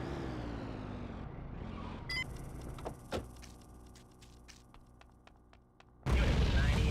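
A deep explosion boom in the video game GTA2 bursts out at the end, loud and sudden, after a stretch of low rumbling and scattered clicks and pops.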